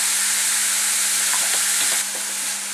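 Onion, green chili and carrot sauté for a Kerala vegetable samosa filling, making a loud, close, dense sizzle with a few scraping stir strokes partway through and no talk.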